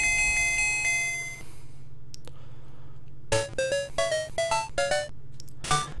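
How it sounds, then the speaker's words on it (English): Super Mario Land 2 video game audio in the Space Zone: a chiming tone plays first, then a run of bright, rapid bell-like dings in quick bursts after a short pause, loud and clean with no talking. "I rode the bubble, I'm about to hit the bell"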